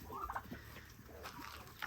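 Young chickens and turkey poults chirp and peep softly in short, scattered calls, faint against a quiet background with light rustling.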